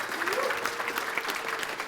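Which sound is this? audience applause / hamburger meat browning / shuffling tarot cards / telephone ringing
audience applause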